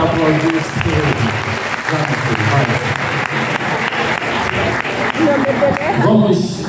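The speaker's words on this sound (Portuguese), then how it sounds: "Quantos podem aplaudir esse Deus?" A church congregation bursts into sustained applause during a communion service sermon, a steady wash of many clapping hands with voices mixed in beneath it throughout.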